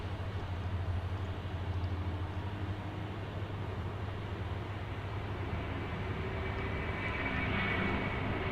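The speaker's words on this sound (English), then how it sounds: "Checking out this A330 departing." An Airbus A330 jet departing from a busy airport, a steady broad engine roar with a low hum, sustained and fairly distant throughout.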